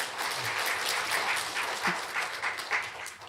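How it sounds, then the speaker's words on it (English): Steady applause from an audience at an academic humanities conference, honoring a professor after a presentation, even and sustained for a few seconds with no talking over it. "Please give another applause to Professor Baishari."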